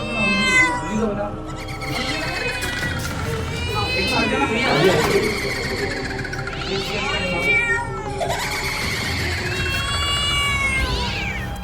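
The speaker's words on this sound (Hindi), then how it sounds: "कमरे के भीतर घूमती बिल्ली" A cat meowing inside a room, repeated loud drawn-out wails and caterwauls, close by, over a steady background with voices mixed in.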